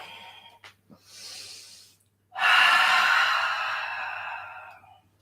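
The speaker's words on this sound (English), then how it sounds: "Exhale back." Long breathy exhale during a live-streamed yoga class, preceded by a couple of softer breaths and then a loud, sustained airy rush lasting a few seconds before fading out.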